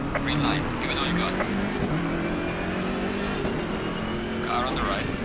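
BMW M6 GT3 race car engine in Assetto Corsa Competizione at Mount Panorama, revving loudly and steadily as it accelerates, with rising engine tones, gear changes and a voice talking over it.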